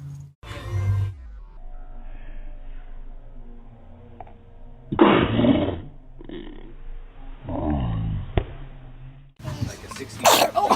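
Babies sneezing in a series of short, sharp, breathy bursts, loud and close, separated by quieter stretches of room sound.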